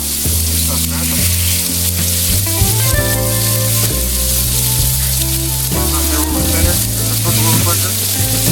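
Smash burgers for BBQ bacon smash burgers sizzle on a flat top griddle, a steady broadband hiss that runs the whole time beneath loud, continuous music.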